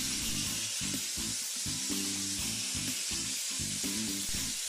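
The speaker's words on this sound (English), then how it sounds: "Notice the blaster on the right using the Speed Blast Australian Garnet is actually overblasting quite a bit and could move considerably faster." Abrasive blasting with Australian garnet forced through a nozzle gives a loud, continuous roaring hiss with no break, and a low uneven rumble runs underneath it.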